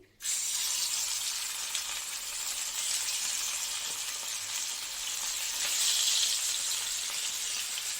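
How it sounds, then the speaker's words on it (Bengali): Bhetki fish pieces frying in a pan make a loud, steady, close sizzle that crackles continuously and swells slightly midway, with no voices. "এবার মাছটাকে ভেজে নেবো"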